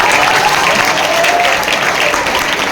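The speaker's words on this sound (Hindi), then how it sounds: "तालियां रुकनी नहीं चाहिए." Loud, sustained applause from a room of students honouring teachers on Teachers' Day at an Anglo Urdu high school in Sangamner, a dense unbroken wash of clapping with faint crowd murmur.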